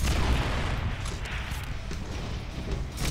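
Gunfire in the video game Deadpool, a dense, loud barrage of booming shots and impacts that runs continuously and close, with no clear gaps between blasts.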